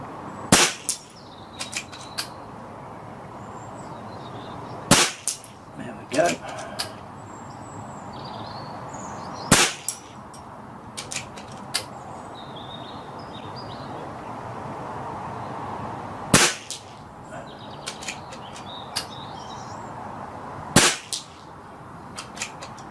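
Sharp cracks from a custom Retay T20 air rifle firing H&N Field Target Trophy pellets at a 50-yard target outdoors, five or six shots spaced several seconds apart over steady ambient background with faint birdsong.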